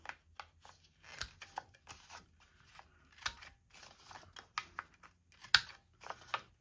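Scissors cut through index cards, rounding corners two cards at a time, giving soft, close snips and crunches in irregular bursts, some sharp clicks among them, against a quiet room.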